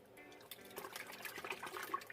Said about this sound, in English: We'll wring out the brush here.